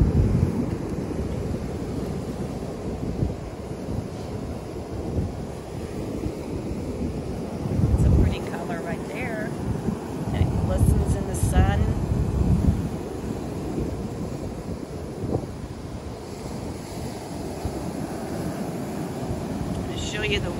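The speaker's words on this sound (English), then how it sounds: "It's a little windy" Wind buffeting a microphone on a beach at low tide, a loud, rumbling roar with gusts swelling and easing, and waves surging in the background.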